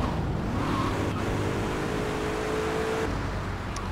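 A car drives in Grand Theft Auto III, giving a steady engine drone with a rising whine partway through, heard alone and fairly loud, without speech.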